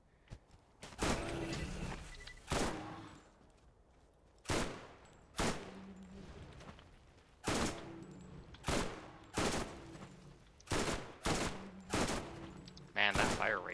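Rapid bursts of gunfire from a purple-rarity gun in the video game Borderlands, sharp loud shots fired in quick pairs and short bursts at a steady pace, with brief pauses between, alone without talk.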